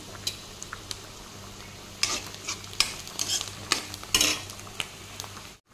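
Two large chopped onions sautéing in oil in a pan, a soft steady sizzle broken by sharp scrapes and clinks of a spoon stirring against the metal, close and fairly quiet, with no talking.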